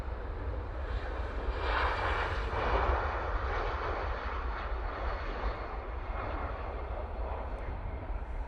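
An Emirates airliner's jet engines at Manchester Airport, a low, broad rumble that swells briefly, then settles into a steady, moderately distant roar with no talking.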